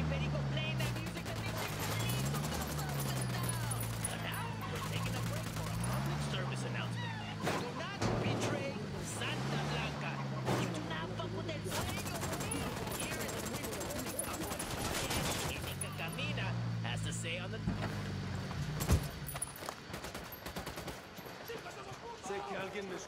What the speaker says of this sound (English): Open fire. I'm engaging tangos.